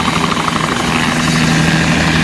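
A scenic tour helicopter runs loud and close, its rotor and engine making a steady, dense roar with a fast rhythmic chop that holds throughout, with no talking.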